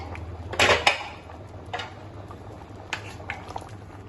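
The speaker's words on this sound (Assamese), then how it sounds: "ঢাকনখন মই লগাই দিম।" A metal lid clatters onto a pot of simmering dal, one loud clanking placement followed by a few softer taps and rattles over a low steady hum.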